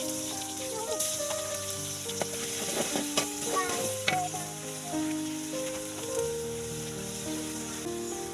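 Onion, tomato and garlic paste fry in oil in a pan over a clay stove, crackling with a steady close sizzle punctuated by stirring scrapes, while a person talks over it.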